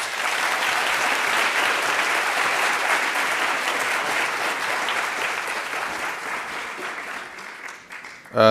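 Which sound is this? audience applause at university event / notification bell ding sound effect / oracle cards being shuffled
audience applause at university event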